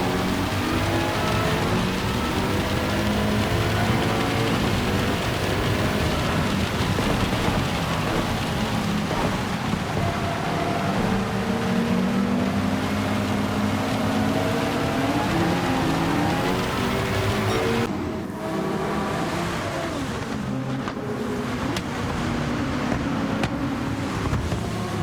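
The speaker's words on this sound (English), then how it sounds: "Listen to the massive raindrops hitting the windshield down the straight here." Heavy raindrops drumming on a race car windshield in Gran Turismo, a dense constant patter over the roar of the engine at speed on a straight, loud and steady throughout.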